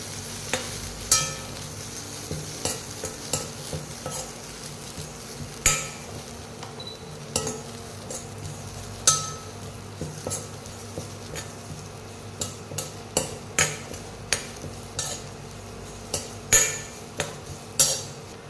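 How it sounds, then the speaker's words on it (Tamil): Aloe vera, curry leaves and fenugreek sizzle softly in a pan while a utensil scrapes and taps against it in irregular strokes, close by with no talking. "எல்லாத்தையும் ஃபஸ்ட்டு வதக்கிக்கலாம்"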